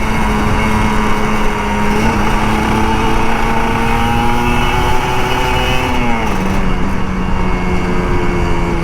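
Kawasaki Ninja RR 150 motorcycle accelerating along an open road, its high, steady engine whine rising and shifting pitch, loud and close throughout with no talking.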